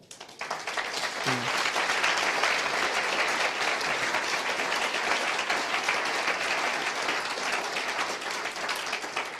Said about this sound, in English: Let's give one more big applause.